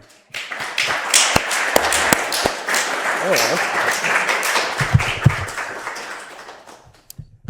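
Applause at the end of a conference talk, a single person clapping in scattered sharp claps mixed with room noise and speech over a few seconds.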